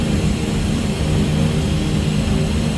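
A heavily loaded DC-3 tail-dragger climbing after takeoff, its propeller engines droning loud, steady and close from inside the aircraft, with no talk.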